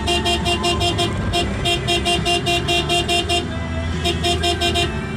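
Heavy traffic with trucks in Salangan, San Miguel, Bulacan: loud engines rumble close by while a rapid series of horn toots repeats in bursts, then pauses briefly before resuming.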